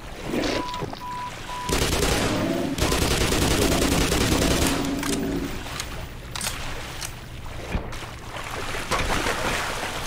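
Gunfire in the video game Black Mesa comes in dense bursts and sustained noisy volleys, with sharp individual shots near the end, loud and close throughout.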